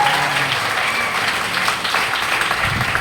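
Steady applause from an audience at a business training event, honoring two brothers who run a company, sustained dense clapping without speech throughout.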